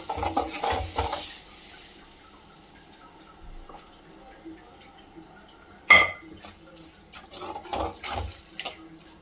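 Cooked lamb lung, pressure-cooked beforehand, is tipped from a vessel into a kadai, with a sudden wet slosh and clatter midway, followed by scraping and knocking of utensils against the pan amid quieter kitchen handling.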